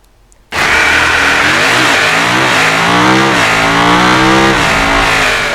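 Supercar engine in the car-building game Automation, starting abruptly after a brief quiet moment and then revving loudly and continuously on a test track, its pitch climbing and dropping through gear changes, with no talking.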